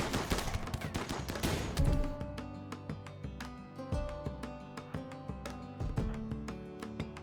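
Rapid gunfire from a RimWorld firefight, dense volleys at first that thin out into sharp, evenly spaced shots over a low musical drone, loud and close, with no talking.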